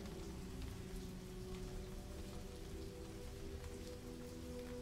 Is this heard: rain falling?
yes